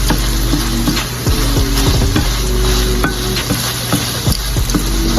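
Ground meat sizzles steadily in a pan for stuffed shells, with repeated scraping stirs and light clinks of utensil against the pan as seasonings are worked in, loud and close throughout.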